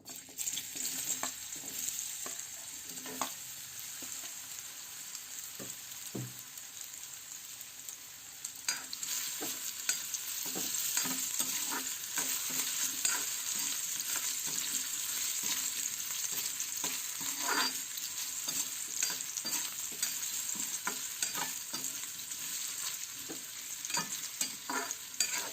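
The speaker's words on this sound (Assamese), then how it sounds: "এতিয়া মই আলুখিনি ভাজি ল'ম।" Potatoes fry in a pan, a soft continuous sizzle with occasional stirring scrapes, steady and fairly quiet throughout with no talking.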